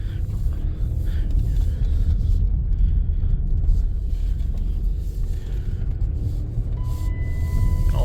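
A high-mileage 2008 Dodge Caravan minivan with 448,000 miles being driven around and put into reverse, giving a steady low engine and road rumble that stays close and even throughout, with no talking.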